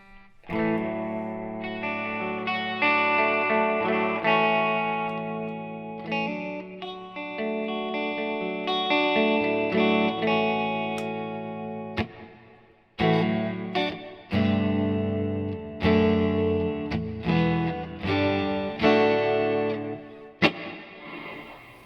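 Electric guitar played through a Fender '68 Custom Vibro Champ Reverb amp with a hall-style reverb, clean sustained chords and picked notes ringing out with a spacious wash, steady and close, no talking.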